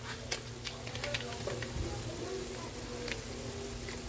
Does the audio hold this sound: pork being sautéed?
yes